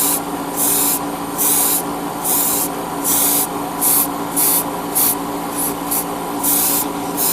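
An airbrush spraying a second coat of paint onto a model spaceship kit, hissing in about ten short bursts of roughly half a second each, close and loud over a faint steady background hum.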